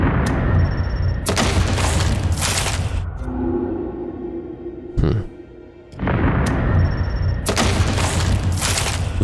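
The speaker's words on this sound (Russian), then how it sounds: "Взрыв ее убивает." Deep booming video game explosions in House of Ashes sound in bursts, a heavy rumble, a pause with a sharp hit, then more loud explosive roaring; no talking.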